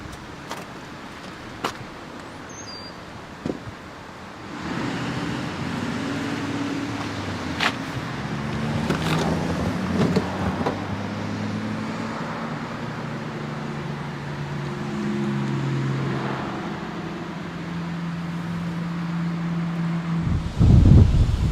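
A 2002 Dodge Viper RT10 Roadster engine settles into a low, throbbing idle with wavering tones after a few quiet clicks, running steadily and then swelling louder at the end.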